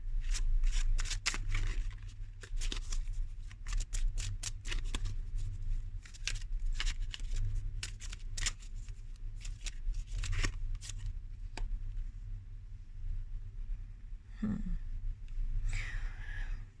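Tarot cards are shuffled and drawn by hand in a steady run of quick, crisp riffling snaps. The shuffling is close, over a constant low hum, and thins out toward the end, with no talking.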